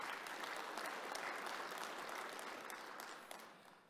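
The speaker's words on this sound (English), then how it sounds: "Give yourselves a round of applause for that." Audience applause at the 2021 Illinois Farm Bureau annual meeting, a broad hall full of steady clapping that stays even, then fades slightly toward the end, without speech.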